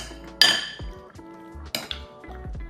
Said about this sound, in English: transfer the bitter gourd into the same bowl as the pork ribs and just give it a good mix